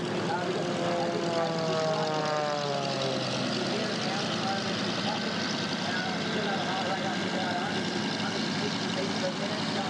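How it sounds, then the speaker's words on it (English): Propeller airplane performing aerobatics at an airshow in Shellharbour, a loud, continuous engine roar with a swelling and fading pitch as it tumbles end over end, while people talk faintly nearby. "You see this one with the plane there, end over end."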